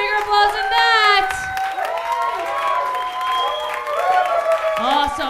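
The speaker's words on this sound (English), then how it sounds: "I need a bigger applause than that." A comedy club audience applauds and cheers loudly, clapping and whoops sustained under an emcee's voice that keeps talking over the crowd.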